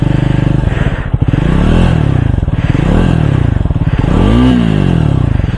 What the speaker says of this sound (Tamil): நம்ம இப்போ ஐடியிலேருந்து ஒரு RPM கொஞ்சம் லைட்டரே கொடுப்போம்